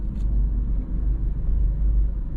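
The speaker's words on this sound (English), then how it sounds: "So we're driving from Pricesmart, Redills Road" A car driving along Red Hills Road near a business centre, giving a steady, loud low engine and road rumble that holds throughout with no talk over it.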